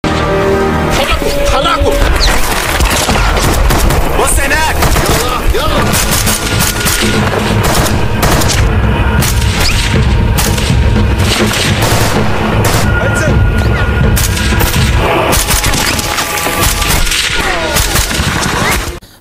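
Dense, continuous gunfire and explosions, loud and relentless, with rapid shots layered over booming blasts throughout.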